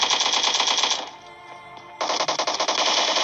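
Rapid automatic gunfire in a military shooter video game: a loud, continuous burst for about a second, a short pause, then another rattling burst.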